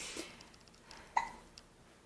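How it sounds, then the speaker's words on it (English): A baby gives a couple of soft, brief hiccups, faint and spaced apart against a quiet indoor background, with no talking. "She has the hiccups."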